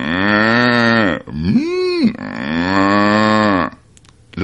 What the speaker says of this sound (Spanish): vaca me contestó.